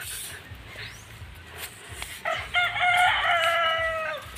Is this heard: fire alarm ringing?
no